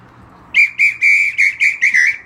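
A handheld whistle is blown to celebrate a Napoli goal: a short first burst, then six loud, shrill blasts in a quick, steady rhythm, close and alone.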